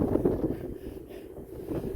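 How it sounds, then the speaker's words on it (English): Wind buffets a ship out at sea, a loud, rough, continuous roar thumping against the microphone, with no voices heard. "because it's going to be windy and loud."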